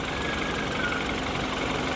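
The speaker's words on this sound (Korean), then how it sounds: "엔진 소리 휘발유라 양호하죠" BMW 528i gasoline engine idling in an engine bay, a steady, even rumble with no voices.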